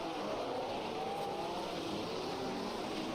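Two 1967 Ferrari Formula One racing cars run side by side into a braking zone at the Longford circuit in a racing video game, giving a steady, close engine roar that holds for the whole stretch with no talk.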